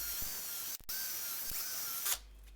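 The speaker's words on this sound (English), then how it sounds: "Drill the 4 pilot holes to the full depth of the drill bit." A power drill bores pilot holes into pallet wood, a loud steady high whine running continuously with a brief stop and restart near the middle before cutting off.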